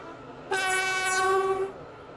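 A train in the Roblox railway game Stepford County Railway sounds a loud, sustained horn for about a second over a quiet background.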